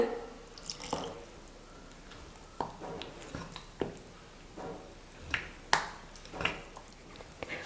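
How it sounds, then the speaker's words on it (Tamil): Milk is stirred little by little into cake batter made without maida, sugar or oven, giving soft, wet, irregular clicks and drips of a spoon in the bowl, quiet and close, with no talking. "இப்போ கொஞ்சம் பால் சேர்த்து மிக்ஸ் பண்ணிக்கலாம்."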